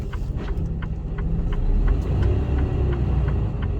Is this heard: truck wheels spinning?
yes